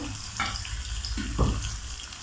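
Vegetables for fried rice sautéing in a hot pan, a continuous close sizzle with brief tossing and scraping bursts.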